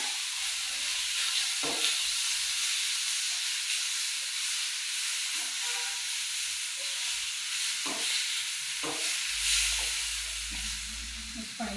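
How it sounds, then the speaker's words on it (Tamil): Chopped tomatoes sizzle in a hot pan, a steady close hiss with a few scraping stirs and clinks of the spoon throughout. "தக்காளி பழம் சின்ன சின்ன துண்டாக வெட்டி வச்சுருக்கிறோம். அதையும் இந்த போட்டு மிக்ஸ் பண்ணுறோம்."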